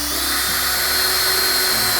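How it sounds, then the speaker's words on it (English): A loud, steady whine of a power drill boring a pilot hole in a steel carport beam bracket, running continuously close by, with a slight shift in pitch partway through. "now we just have to drill out the holes"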